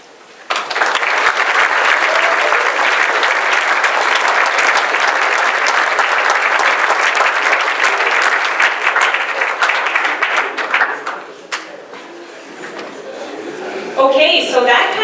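Sustained, loud audience applause at an award presentation, dense clapping rolling on for about ten seconds before thinning out, with a voice speaking near the end.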